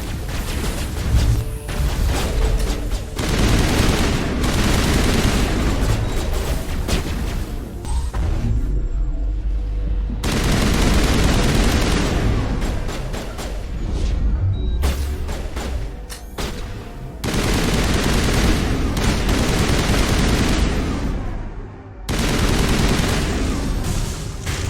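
A sustained, loud firefight in Mass Effect Legendary Edition, with rapid overlapping gunshots and automatic bursts filling nearly the whole span, broken by brief lulls before the shooting surges again.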